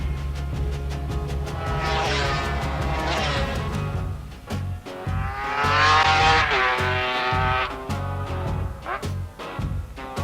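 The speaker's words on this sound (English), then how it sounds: "Phil Reed roars home to win on the MV." MV Agusta four-cylinder Grand Prix racing motorcycle at a race, engines roaring past with a loud rising and falling whine, a second wave swelling near the middle, then throttle blips and fading revs.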